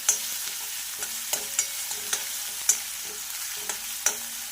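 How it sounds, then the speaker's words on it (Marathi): Green chillies and fresh coriander fry in hot oil in a pan, a soft steady sizzle broken by light, regular scrapes and taps of a spatula stirring about every half second, close and moderately quiet with no voices. "याला छान असं फ्राय करून घ्यायचं आहे आपल्याला हलकस गोल्डन फ्राय करायचं आहे"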